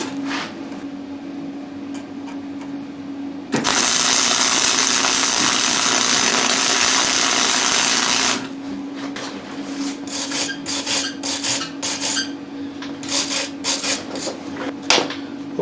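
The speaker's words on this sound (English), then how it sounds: "Now I'm just going to weld around the washer." MIG welding a washer onto a flange on an MTD Carrier: a loud, steady crackling hiss runs for about five seconds amid quieter shop noises and scraping before and after.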